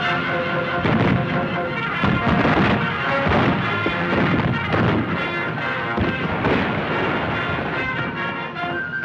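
Dense, continuous battle gunfire from an early 1931 film, with rifle shots and heavier blasts merging into a steady roar across the whole stretch, loud and unbroken, with no talk over it.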